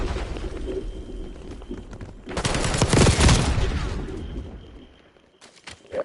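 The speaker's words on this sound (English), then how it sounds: "Breaking out rocket launcher." A rocket launcher fires in the Call of Duty Black Ops 6 shooter game, a loud burst of blast and roaring rumble that swells for a couple of seconds and then fades over ongoing battle noise.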